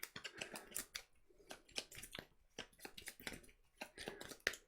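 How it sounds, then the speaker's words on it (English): A deck of cards for the board game Lost Ruins of Arnak is shuffled by hand at close range, giving quick crisp riffles and soft taps in irregular bursts, fairly quiet, with no talking. "Let's shuffle this deck."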